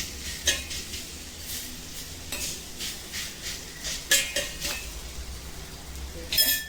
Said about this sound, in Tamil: இந்த வெண்டைக்காய் கறி எடுத்து வச்சுருந்தேன், அதுவும் இதில் போட்டுடுறேங்க. நல்லா இன்னும் இந்த ஹீட்டுக்கு நல்லா வதங்கிடும்